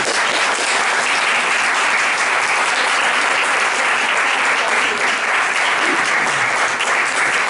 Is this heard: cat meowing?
no